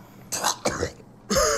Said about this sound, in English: He coughing like that.